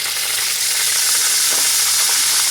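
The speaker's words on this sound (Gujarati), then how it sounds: "હવે આ તેલમાં આપણે ચપટી ઘીણ નાખશું" A pinch of asafoetida goes into hot oil while making paneer masala bhurji, setting off a loud, dense, continuous sizzle that stays close and steady throughout with no talking.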